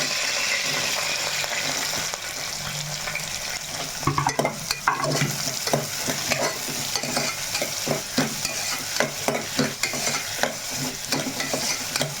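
Onions frying in a pan until browned for a mutton curry, with a steady close sizzle throughout and a run of sharp spoon-stirring scrapes starting partway through. No one speaks.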